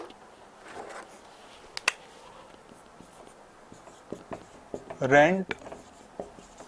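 Marker or chalk scraping across a board during a law lecture on drafting deeds, heard as scattered taps and a brief squeaky stroke, with someone speaking throughout.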